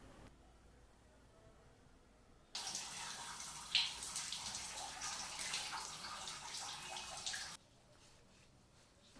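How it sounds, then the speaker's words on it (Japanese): Water from a shower runs steadily in a hotel bathroom in India, a loud continuous hiss that starts abruptly, holds for about five seconds and cuts off, with quieter room sound before and after. "2日ぶりのシャワーも浴びてすっきりです。"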